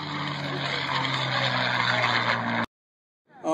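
A P-51 Mustang propeller airplane roars past loudly at an air show with a steady engine drone, then cuts off abruptly into silence before the engine sound returns.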